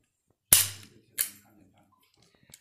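Two loud, close shots from a Simson 16/70 double-barrel shotgun fired by its triggers, each a sharp crack with a short decaying tail about half a second apart, followed by a faint click.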